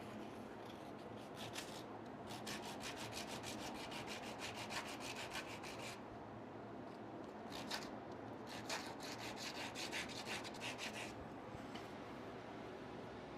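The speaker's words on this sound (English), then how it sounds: "I'll try some sanding here." Hand sanding a small wooden piece on a lathe during woodturning, rapid back-and-forth rasping strokes in several quiet bursts over a low motor hum, with short pauses between runs.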